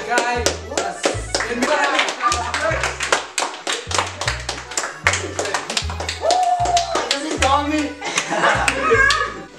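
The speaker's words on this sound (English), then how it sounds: "Clap hands for the guy." Loud audience applause at an extreme spelling bee contest in Namibia, dense, steady hand clapping throughout with voices mixed in and a thumping low beat pulsing underneath.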